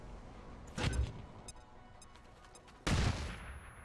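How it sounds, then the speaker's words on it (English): A flashbang grenade in the video game XCOM 2 goes off as two sharp, loud bursts about two seconds apart, each trailing off briefly, with faint clicks between. "flashbang"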